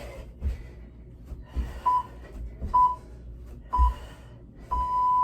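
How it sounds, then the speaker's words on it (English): A new workout timer beeps during a fitness class: a few short, evenly spaced beeps about a second apart, then one long sustained tone, over a low background murmur. "the timer's gonna keep going. Ignore it for a minute. It's what I get for using a new timer."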